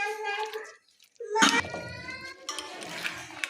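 Russian fruit salad being stirred together with sauce in a bowl, wet squelching and soft clinks of a spoon against the dish, heard under a voice talking.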